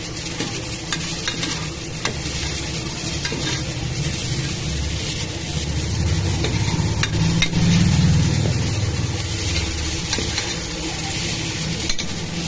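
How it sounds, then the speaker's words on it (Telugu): Green chillies, curry leaves and potato fry in hot oil for a menthi vankaya curry, giving a steady close sizzle with stirring that swells briefly near the middle, with no talking. "దాన్ని కూడా కొంచెం ఆయిల్లో ఫ్రై చేద్దాం."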